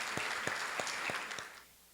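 Short burst of applause from a church congregation at a married couples' course graduation, several distinct claps over a soft wash that fades out after about a second and a half.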